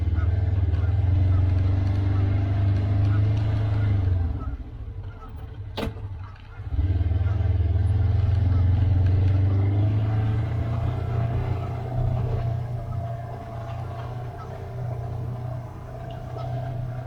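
A vehicle drives along a trail on rural property, its low engine rumble steady and close throughout, briefly dipping midway before resuming.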